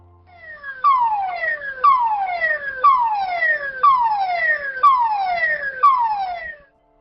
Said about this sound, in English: In case of a gas leak, you will hear this alarm.